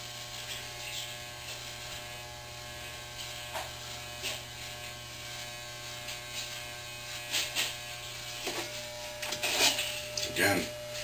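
Electric hair clippers buzz steadily and close up as they cut hair against the grain to start a fade on a dark Caesar haircut with 360 waves, with a constant motor hum and brief louder bursts as the blade passes.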